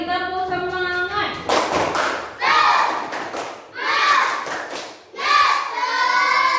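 Children clap together in a classroom in several rhythmic bursts of quick, patterned hand claps, near and fairly loud, separated by short pauses with a voice speaking between them.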